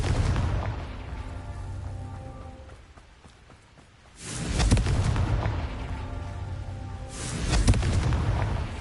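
In a Harry Potter video game, the Confringo blasting spell sets off two booming explosions a few seconds apart, each followed by a rumbling decay, with a quieter stretch between them.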